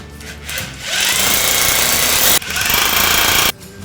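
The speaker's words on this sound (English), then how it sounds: "drill out the marked holes using a drill with a 1/4 inch drill bit" A loud power drill with a 1/4 inch bit grinds continuously into a wall in two long bursts, separated by a brief pause, close to the listener.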